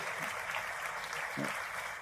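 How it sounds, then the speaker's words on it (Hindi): Faint, distant applause fills a Hindi comedy poetry gathering, a thin wash of clapping from the audience, briefly heard with a little speech over it. "तालियां कम थी, ये तो पुरुषों को बजानी चाहिए"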